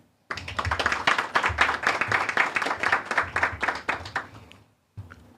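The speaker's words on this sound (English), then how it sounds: "we must applaud the contribution of the staff." Steady clapping from a room full of people at a press launch, a dense patter of hand claps that fades out, then a brief final spatter.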